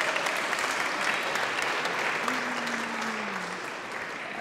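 Steady applause from a graduation ceremony audience, a dense continuous patter of many hands clapping at moderate volume for several seconds.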